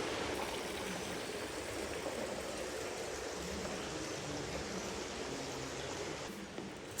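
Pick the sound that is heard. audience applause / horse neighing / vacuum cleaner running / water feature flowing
water feature flowing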